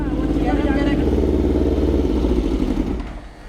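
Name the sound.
Yamaha R1 motorcycle engine running, dying when throttle released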